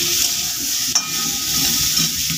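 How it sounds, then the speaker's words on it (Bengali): Fish curry with light spices sautéing in a pan gives a steady, close sizzle with soft stirring scrapes and one brief clink near the middle, no voices. "মশলা টশলা হালকা মশলা দিয়ে তো আমি তরকারিটা কষাচ্ছি"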